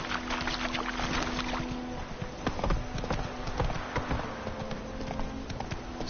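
Horse hooves clatter in a steady galloping clip-clop in The Witcher 3, loud and continuous over a rumbling ambient bed, with no talking.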